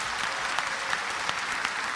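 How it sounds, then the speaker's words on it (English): An audience at a religious talk claps steadily, a continuous wash of many hands at even volume with a few sharper claps standing out. "MashaAllah, you're clapping."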